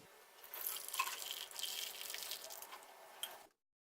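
Boiled tulsi kadha herbal tea is strained, giving a steady close pouring and dripping of liquid with a few brighter drips. It lasts about three and a half seconds and then stops abruptly, with no talking.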